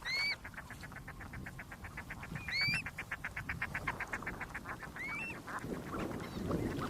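Ducks on Lake Chungará in northern Chile call with rapid, rhythmic quacking and occasional higher honks and whistles, over open outdoor ambience.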